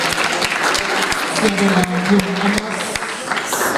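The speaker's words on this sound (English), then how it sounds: "Let's give Rama a big round of applause." Steady applause from a crowd, many hands clapping continuously at a lively, even level throughout.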